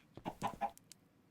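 Minecraft chickens cluck in a short burst of three or four quick, clear clucks, then fall quiet apart from a couple of faint clicks.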